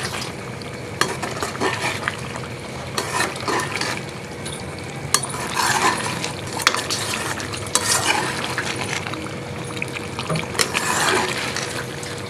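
A spoon stirs chicken stew in a pot with cut green chillies and round red chillies, scraping and clinking against the metal under a constant sizzle, with irregular bursts of stirring throughout.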